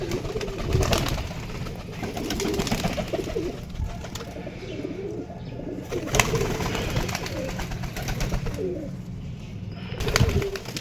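Home pigeons released from their loft coo in low, repeated throaty calls at close range over a steady background hum, with no talking.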